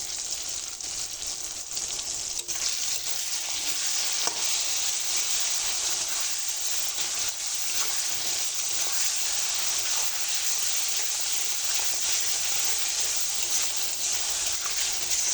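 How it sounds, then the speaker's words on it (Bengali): Tomato with garlic paste, cumin paste, turmeric, salt, chili powder and sugar sizzles steadily in hot oil for a sour rohu fish curry, a dense continuous frying hiss held close and even throughout. "মশলা দিয়ে টমেটোটা আমার খুব ভালো করে কষানো হয়ে গেছে"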